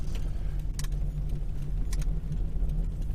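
A 2000 Toyota Estima G-Spec V6 AWD on a road test hums with a low, steady engine and road rumble from inside the cabin, faint and continuous with small rattles.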